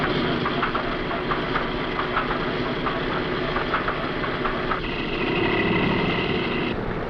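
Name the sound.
B-17 Flying Fortress number 2 engine starting and running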